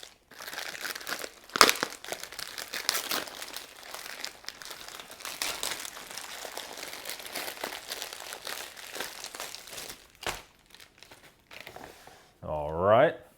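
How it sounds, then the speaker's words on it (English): A double-bagged plastic MRE pouch with tear notches is handled and ripped open, giving close crinkling and crackling of plastic with a few sharper tearing bursts, ending in a louder rip. "Double bagged as always. Has tear notches in it."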